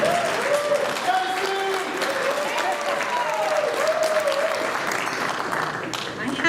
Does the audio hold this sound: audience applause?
yes